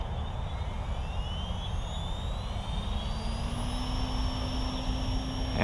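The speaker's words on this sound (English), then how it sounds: "Let's spool up and see how it does." An SAB Goblin RAW 580 RC helicopter spools up close by, a steady loud whine and rushing roar with tones rising slowly in pitch as the rotor gains speed, alone without voices.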